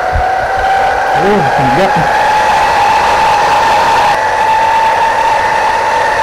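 A custom laptop cooling pad fan blows loudly as a steady, whirring hum with a constant pitch throughout. Someone exclaims briefly over it near the start.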